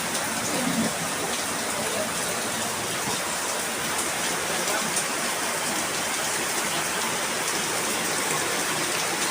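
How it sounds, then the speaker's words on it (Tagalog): Heavy rain pours steadily and loudly throughout, a dense, even hiss of water falling on surfaces with no break. "Oh, lakas ng ulan."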